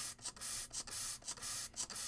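Short hissing bursts of matte medium from a small sprayer, misted from a cup onto inkjet prints, repeat about four times in a steady rhythm, faint and close, with quiet gaps between the bursts.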